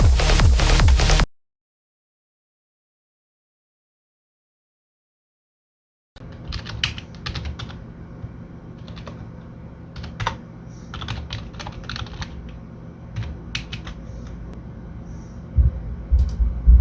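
Rapid clicking of a computer keyboard during coding for a DIY tachometer, an irregular stream of keystrokes at close range after a burst of noise and several seconds of silence, with a low steady hum underneath.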